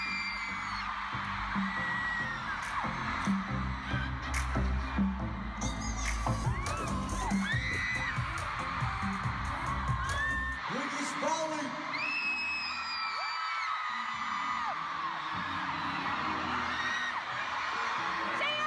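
A large crowd at a concert in Germany screams, whoops and cheers continuously, with shrill high-pitched shrieks layered over dense, sustained crowd roar and a strong low musical thump in the first half.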